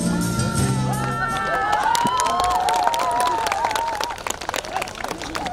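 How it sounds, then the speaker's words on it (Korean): Applause and cheering from a festival crowd at the main stage of the Deoksan Hot Spring Festival, a steady wash of clapping mixed with crowd noise and sustained tonal sounds running throughout. "큰 박수 부탁드리겠습니다"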